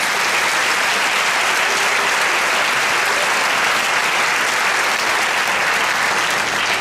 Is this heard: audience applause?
yes